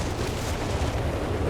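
Artillery barrage exploding in the Company of Heroes 3 video game, a dense, rumbling wash of distant booms blending into a continuous low roar.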